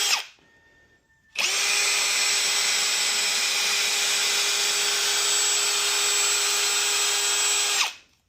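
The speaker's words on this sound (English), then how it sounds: "we're going to make a pass real quick with the 800 grit" A power tool whirs at a steady high pitch for about six seconds, loud and close, as an 800 grit pad sands a worn headlight lens on a high-mileage Yukon XL, then spins down.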